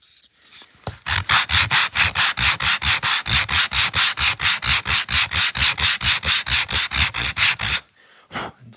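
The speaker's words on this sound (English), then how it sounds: "Go ahead and knock this down. Deburr it." Rapid, rhythmic rubbing strokes deburr a small wooden miniature table part, about two dozen even scrapes in quick succession, close and loud, then stopping.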